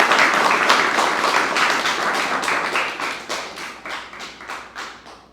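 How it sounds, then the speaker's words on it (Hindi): Enthusiastic applause from a small acting class, steady group clapping that starts strong and gradually thins out into scattered, slower claps toward the end, with no talking. "जोरदार तालियां"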